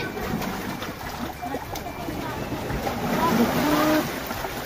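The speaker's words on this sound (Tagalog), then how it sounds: "Ang ganda ng waves." Ocean waves wash ashore at Bitoon White Beach in Anda, Bohol, a steady broadband rush with wind buffeting the microphone and a faint boat presence, continuous and fairly close throughout.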